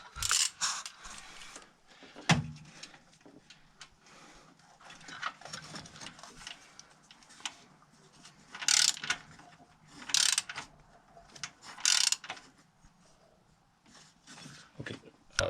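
Ratcheting clicks and metallic mechanism sounds from undoing a T45 Torx bolt on a BMW N13 engine during an oil pump chain job, coming in short irregular bursts with pauses between.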